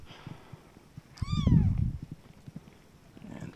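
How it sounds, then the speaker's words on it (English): A kitten lets out one clear, close rising-and-falling meow amid soft rustling and handling noises. "And this is a kitten."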